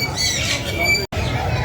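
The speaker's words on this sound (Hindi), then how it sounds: "क्या खूबसूरत तोता है यार, ज़बरदस्त" A parrot at the Sunday bird market in Saddar, Karachi, gives a harsh, close squawk over faint crowd babble, then a brief pause and another burst.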